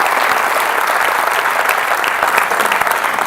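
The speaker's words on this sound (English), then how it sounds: "Please give them a round of applause." A conference audience applauds the organizers at a Ruby programming event in Portugal, with dense, sustained clapping filling the room at close range with no talk over it.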